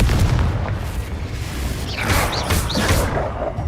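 A Confringo fire spell bursts in the game Hogwarts Legacy: a heavy low rumbling boom holds through the clip, with bright whooshing, crackling flourishes flaring up in its second half.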